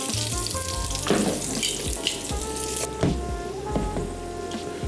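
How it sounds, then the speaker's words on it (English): Minced garlic crisps in a hot pan while making a poke bowl, a dense crackling sizzle with scattered pops and small clatters close by, continuous throughout with no talking. "I have some minced garlic that I'm actually gonna put. Just try to crisp up a little bit."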